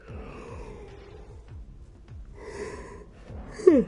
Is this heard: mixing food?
no